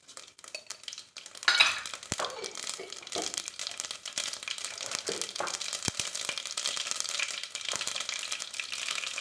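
Mustard seeds hit hot oil beside roasted garlic in a pan, giving a close, crackling sizzle with scattered pops and utensil scrapes and no voices.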